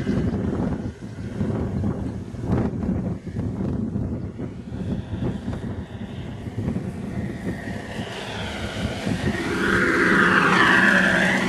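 An RC Stuka model plane comes in to land on its maiden flight, its engine drone and wind rushing past the microphone, swelling louder and closer toward the end.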